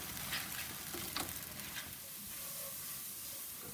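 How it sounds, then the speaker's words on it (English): Bacon lardons, boiled beforehand to draw out salt, fry in a pot with a steady, soft sizzle and occasional crackles, heard close and alone. "I'm now frying off some bacon lardons"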